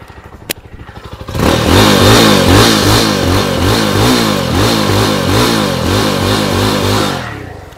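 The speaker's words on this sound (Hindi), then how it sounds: "मैं आपको एग्जॉस्ट सुना देता हूं कि साउंड" A Jawa 42 FJ motorcycle with the Alpha 2 engine kicks into life and idles loudly up close, its exhaust giving a steady, throbbing thump-thump beat that fades out at the end.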